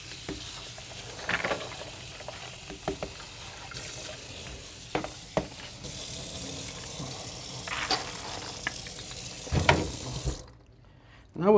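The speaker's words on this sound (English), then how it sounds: "I'm going to, drain the batch over here in the sink, and we're going to rinse them off really nice." Soaked soybeans are drained and rinsed under cold running tap water in a kitchen sink, a steady close splashing stream with clinks and knocks, cutting off abruptly near the end.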